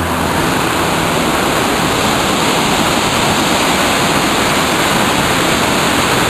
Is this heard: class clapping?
no